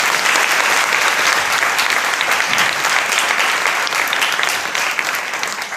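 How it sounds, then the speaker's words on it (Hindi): Steady, dense applause from an audience at a spoken talk, loud and continuous throughout with no voices over it, tapering slightly at the end. "अब बात इनकी निकली है तो ताली बजा ही दीजिए।"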